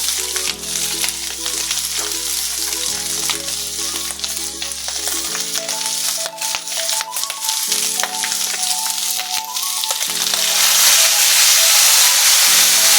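Dried fish and vinegar sizzling in a frying pan while pork humba is cooked, a loud continuous hiss and crackle close up, growing slightly louder near the end, with faint music underneath and no speech.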